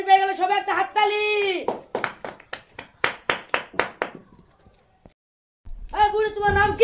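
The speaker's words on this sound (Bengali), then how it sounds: "সবাই একটা হাততালি।" A group of children and adults clapping hands at a ball-rolling game with prizes, a quick run of sharp, loud claps between stretches of speech, ending in a brief pause before talking resumes.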